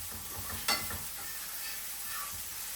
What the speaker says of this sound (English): And you just saute them.